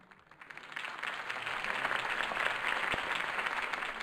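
A crowd in a Batman video game breaks into applause, a broad wash of clapping that swells over the first second and holds steady and full.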